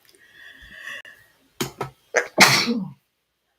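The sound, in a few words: sneeze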